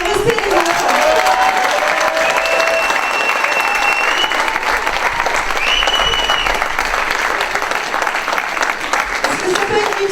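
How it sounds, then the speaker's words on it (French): Sustained audience applause fills a school end-of-year show, dense and steady for the whole stretch, with children's voices and talk faintly mixed beneath the clapping. "Voilà, encore des applaudissements."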